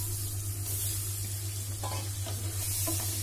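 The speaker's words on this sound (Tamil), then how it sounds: "அந்த எண்ணெயில் லைட்டாக அந்த முட்டையை லைட்டாக வதக்கிட்டே இருங்க" Boiled eggs shallow-frying in a thin layer of hot oil for egg gravy, giving a continuous close sizzle with light stirring scrapes and no voices.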